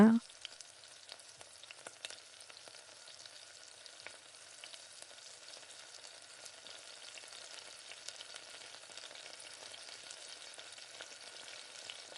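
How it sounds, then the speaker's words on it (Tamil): Tomato and green chillies sautéing in oil in a pan for tomato thokku, giving a faint, steady, continuous sizzle throughout with no speech. "நல்லா எண்ணெயிலே வதக்கி விடுங்க."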